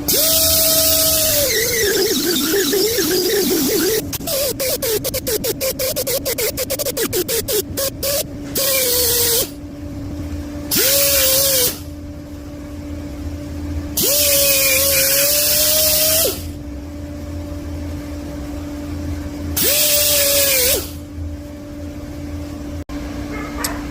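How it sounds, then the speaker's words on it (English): A die grinder rounds out a hole in a Mopar exhaust, its piercing high-pitched whine running in several long bursts that spin down between them. Rapid chattering grinding contact comes early, all loud and close with no talking. "I got this on the end of my die grinder. And I'm going to make that hole round."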